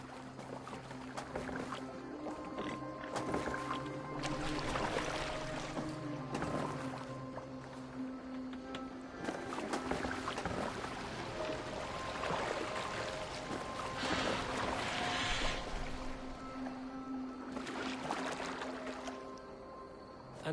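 A boat glides across the water in Assassin's Creed Valhalla, with a steady wash of water and hull noise running throughout, joined by faint sustained tones and light rustles.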